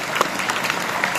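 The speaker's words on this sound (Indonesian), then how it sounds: "Tepuk tangan." Audience applause at an Islamic lecture on Quran memorization, a brief burst of clapping at moderate level with a few sharper claps standing out, no talking over it.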